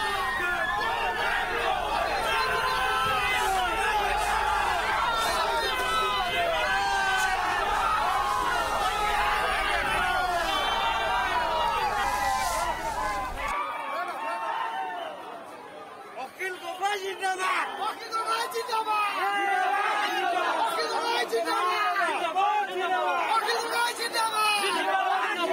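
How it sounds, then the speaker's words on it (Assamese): BJP supporters celebrate an election victory in Sivasagar, their loud crowd chatter and cheering filling the scene. A narrator speaks over part of the noise. "এনেদৰে বিজয় উল্লাস তেওঁলোকে উদযাপন কৰাত পৰিলক্ষিত হয়"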